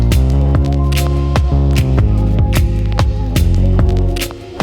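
Deep synth bass played on an MPC 3.0 with reverb, loud sustained tones sliding between pitches in a repeating rhythmic pattern with clicky note attacks, no voices.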